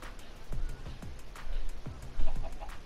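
Chickens clucking in the Minecraft: Story Mode video game, with several short, soft clucks and low thumps spaced through the clip over quiet game ambience.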